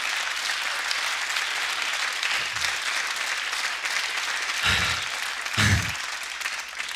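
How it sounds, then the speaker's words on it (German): Studio audience at a Berlin late-night comedy show applauding, a dense, even burst of clapping filling the whole stretch, with a few low thumps standing out near the end. "Danke für den Applaus an dieser Stelle."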